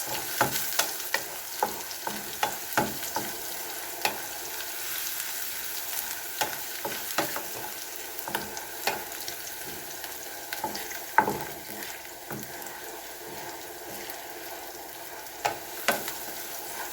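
Garlic and onion frying in a pan for pork liver steak, a soft steady sizzle broken by frequent light clicks and scrapes of a utensil stirring, fairly quiet with no voices.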